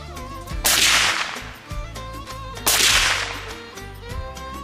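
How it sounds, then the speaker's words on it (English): FN SCAR 17 .308 rifle fitted with a Yankee Hill Nitro 30 suppressor, two sharp close shots about two seconds apart, each a loud crack followed by a decaying ringing tail over a tonal background. "We have an FN Scar 17, and we're topped off with a Yankee Hill Nitro 30 suppressor."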